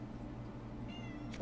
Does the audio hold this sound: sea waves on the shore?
no